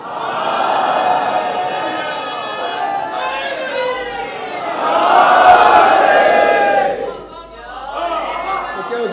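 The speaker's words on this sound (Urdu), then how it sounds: "ایک نعرہ حیدری باواز بلند عنایت فرمائے." A large crowd at a Shia majlis loudly chants the Naara-e-Haideri slogan, a swelling roar of many voices in unison that peaks mid-clip, heard alongside the cleric's amplified voice.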